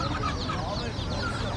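Chickens cluck densely and continuously at a poultry market in Taşköprü, Kastamonu, many birds at once creating a close, busy chorus of overlapping clucks.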